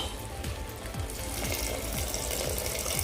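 Water pours steadily from a vessel into soaked rice for soya chunk biryani, a continuous close rushing splash with a faint repeating rhythmic undertone.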